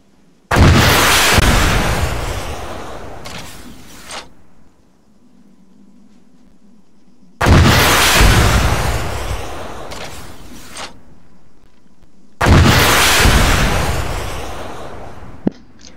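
A rocket launcher fires three times in a military video game mod, each a loud booming blast that trails off over a few seconds, spaced several seconds apart, with a low hum between shots.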